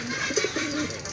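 Pigeons at a pigeon seller's coo softly in a brief close burst, with a couple of low throaty coos over light background noise.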